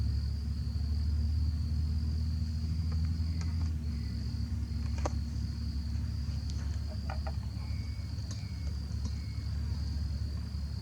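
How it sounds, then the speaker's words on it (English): Crickets chirping at night, a steady high-pitched trill that carries on unbroken against a low, quiet background rumble, with a few faint clicks and no talking. "I can hear the crickets."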